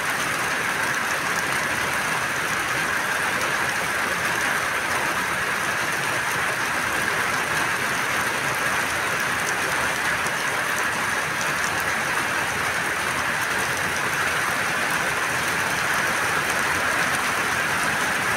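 Heavy rain pours down as a dense, steady hiss that stays loud and unbroken throughout, with no voices.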